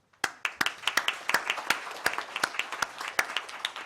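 Audience applause closing a panel discussion, a sparse scattering of individual claps at moderate distance that starts abruptly and continues unevenly, with no voices over it.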